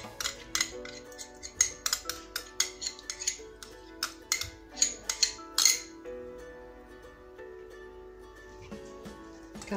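A utensil beats plant-based cream into a vegan chocolate mousse in a bowl, a quick series of sharp clinks and scrapes that fade into quieter stirring, with no voices.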